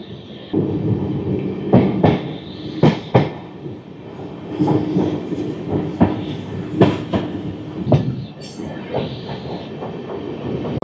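Hirakhand Express rolling slowly into Koraput Junction, wheels clacking over rail joints in sharp irregular bursts above a steady low rumble of the carriages, with a brief high squeal near the end.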